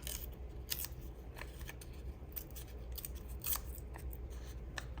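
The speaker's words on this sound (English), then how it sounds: "And we're going to rip along all sides of it." Paper torn by hand along all its edges, freshly stamped journal ephemera: a run of short dry ripping and snipping bursts at an uneven pace, close and fairly soft, with no talking.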